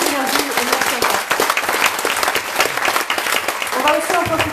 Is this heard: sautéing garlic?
no